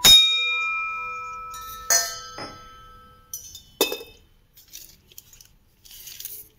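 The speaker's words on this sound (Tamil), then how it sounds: "இப்படி கோயில் மணி மாதிரி சவுண்டு இருக்குது பாருங்க" Bright metallic rings from a struck antique brass vessel, a long temple-bell-like tone decaying, followed by several lighter clinks and taps.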